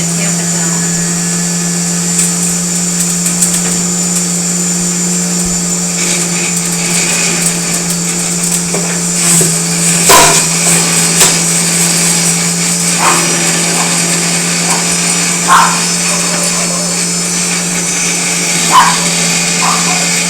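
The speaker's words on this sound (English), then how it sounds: "I'm going to just kind of quickly zip it in my blender" A kitchen blender grinds dried greens into powder with a steady, loud, high whirring motor and occasional knocks and rattles, running continuously throughout.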